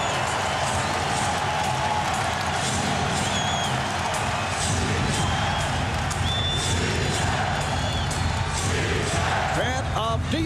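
A capacity basketball crowd at Staples Center during an NBA Finals game roars steadily and loudly throughout, a dense wash of cheering and noise with faint sneaker squeaks and distant whistles.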